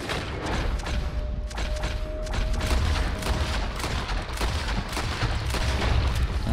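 Gunfire in the Western video game Red Dead Redemption 2 on PS4 Pro: a dense run of sharp shots and thumps over a steady loud rumble, firing repeatedly throughout with no talk.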